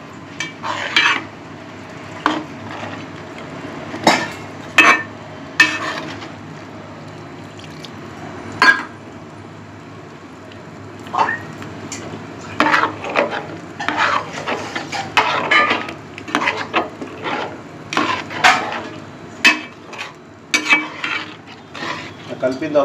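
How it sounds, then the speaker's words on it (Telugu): Chicken curry with added water being stirred in a pot, a spoon repeatedly scraping and clinking against the metal with wet stirring sounds, close and moderately loud, with no talking. "సో ఇప్పుడు నీట్గా ఇది కలవాలి."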